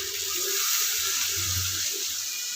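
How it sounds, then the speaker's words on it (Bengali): Water poured into a pan of curry frying in oil with taro, a steady loud hissing, splashing rush that continues throughout, close up and without talk. "এবার আমি পরিমাণ মতো জলটা দিয়ে দিচ্ছি।"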